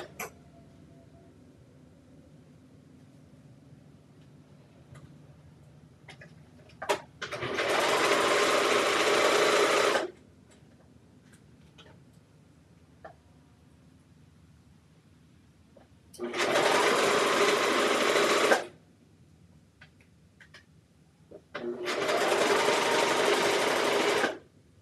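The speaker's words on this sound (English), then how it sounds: "I'm going to go ahead and serge that one as well" An overlocker serges a raglan seam with a three-eighths inch allowance in three loud, steady bursts of buzzing stitching, each a few seconds long and separated by quiet pauses with small handling clicks.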